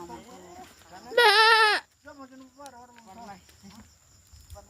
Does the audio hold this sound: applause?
no